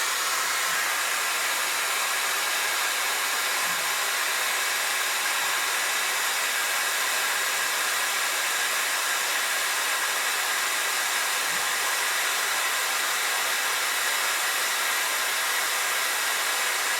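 A hair dryer blows steadily while hair is being dried and styled, giving a loud, close, continuous airy whoosh that holds unchanged throughout with no talking.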